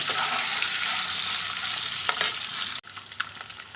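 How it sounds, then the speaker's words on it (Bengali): Eggs frying lightly in hot oil, a steady broadband sizzle that holds evenly, with a couple of brief scraping touches near the end and a sudden dip in the hiss, and no voices. "তেল গরম হয়ে গেছে এখন ডিমগুলোকে দিয়ে দিচ্ছি খুব কড়া করে ডিমগুলো ভাজবো না জাস্ট হালকা তেলে একটু ভেজে নেব"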